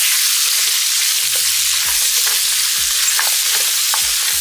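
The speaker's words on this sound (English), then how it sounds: "Let them cook down and sweat a little bit." Vegetables sweating in a pot after beef short ribs are seared, giving a loud, steady sizzle throughout, with a few soft stirring knocks on top.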